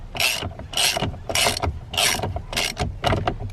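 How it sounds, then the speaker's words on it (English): A ratchet tightens the bolts on a racing steering wheel fitted to a 2017 Chevy Silverado, giving about six rapid, evenly spaced bursts of close, loud clicking with short pauses between strokes. "so we're just going to start tightening it back up."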